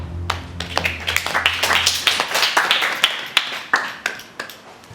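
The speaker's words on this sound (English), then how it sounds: "Housemates, this isn't a night at the theatre. You don't need to applaud every time." Big Brother Australia 2012 housemates clapping during live nominations: a burst of close, brisk applause from a small group that rises, then thins into scattered claps.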